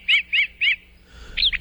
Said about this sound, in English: The brown thrasher, Toxostoma rufum.